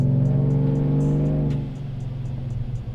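A procharged, cammed 6.2L GMC Denali truck revs hard on a dyno, then the engine note drops away into a rougher tone with rhythmic popping, loud and close with no voices.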